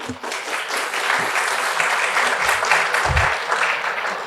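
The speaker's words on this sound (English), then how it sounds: "Please put your hands together for him." An audience at a cybersecurity and careers panel discussion applauds to welcome a panelist, with sustained, even clapping from many hands throughout.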